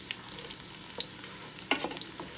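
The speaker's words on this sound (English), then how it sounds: "Saute it, let it get nice and brown." Shrimp and vegetables sauté in a Power XL cooker, giving a soft, close sizzle dotted with small pops and a couple of brief stirring clatters.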